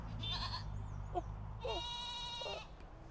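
A goat bleats twice nearby, a short cry followed by a longer wavering one, over a low steady background hum with no talk.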